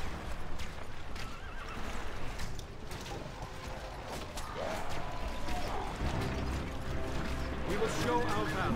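Horses neigh and whinny in The Lord of the Rings: Battle for Middle-earth, mixed with clip-clopping hooves, creaking mechanisms and battle noise, while someone talks over the game sounds throughout.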